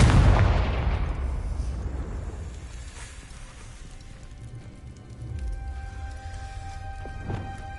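In the video game Hogwarts Legacy, the Confringo explosion spell lands with a loud, booming burst right at the start. It rolls off into a long, fading rumble over quiet background ambience.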